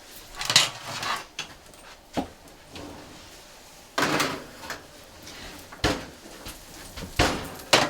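A tray of sardine-topped mini pizzas goes back into a kitchen oven: a series of sharp metallic clunks and knocks from the oven door and pan, spaced irregularly, close and fairly loud, with quieter rustling between.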